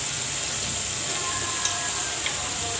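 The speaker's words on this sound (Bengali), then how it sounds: "এরপর আমি ভালোভাবে এটাকে একটু কষিয়ে নিচ্ছি।" Coriander and cumin powder sautéing in a hot pan, giving a steady, even sizzle and frying hiss throughout with no voices.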